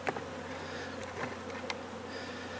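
A dense, steady buzz of many honeybees during a colony removal fills the air close by, with occasional faint clicks and no talking.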